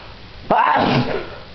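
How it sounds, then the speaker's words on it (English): One person sneezes once, close and loud: a short sharp intake bursts into a breathy, voiced sneeze that trails off, heard alone without talk. "The first time in a while I sneezed."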